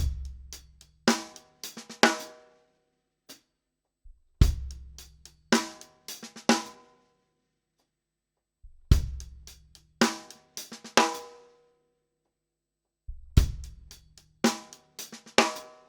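A drum kit plays a groove of kick, snare and cymbal hits, ending each bar with a 16th-note inward paradiddle fill, right-left-left-right. The hits are crisp and close, with silent gaps between repeated phrases.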